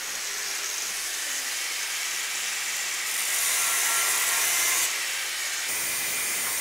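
Sprues being cut off a freshly cast bronze sculpture in a foundry, a steady, close, abrasive grinding hiss that runs the whole time and swells louder partway through.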